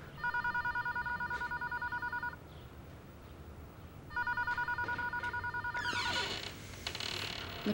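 An old-style telephone bell rings in two rapid rattling bursts separated by a pause, at moderate distance in a quiet domestic room, followed by a brief clatter of movement; no one speaks.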